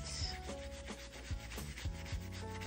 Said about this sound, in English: just gonna scrub, scrub, scrub, get the rest of this off